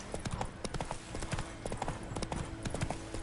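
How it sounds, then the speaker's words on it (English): Rapid, rhythmic clip-clop of horse hooves in the video game The Witcher 3, a steady galloping beat that carries through the whole stretch at moderate loudness. "Sometimes the horse does not want to follow the path that you're running down."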